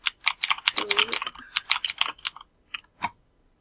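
Rapid bursts of computer keyboard typing during a Murder Mystery 2 gameplay session, close and crisp, in quick irregular clusters with brief pauses and a final isolated keystroke.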